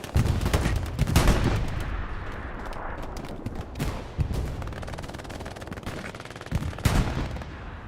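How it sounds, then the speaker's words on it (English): A close artillery gun fires in a D-Day World War II shooter match, heavy booms standing out over a constant backdrop of distant gunfire and battlefield rumble. "Artillery gun is so freaking close, man."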